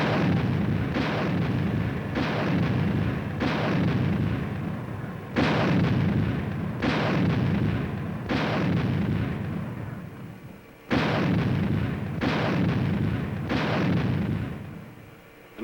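Big artillery guns fire in a steady volley, about nine loud booming blasts spaced a second or two apart, each a heavy concussive crack that rolls off into a rumbling tail, with no talking.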